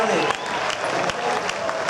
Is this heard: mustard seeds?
no